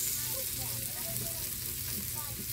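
Onions fry in a pan until lightly browned for a native chicken soup, giving a steady, even, close sizzle throughout with a faint crackle.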